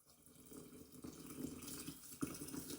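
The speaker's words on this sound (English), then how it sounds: "So I'm going to add my water to it now." Water from a kettle pours into a jar of herbs for a cold infusion, a short, close, steady trickle that gurgles and splashes a little more as the vessel fills.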